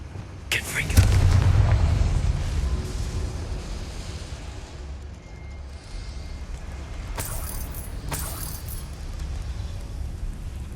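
A Confringo blasting spell bursts in Hogwarts Legacy, a deep booming blast near the start that rumbles and fades, followed later by two sharp crackling hits against a low ambient bed.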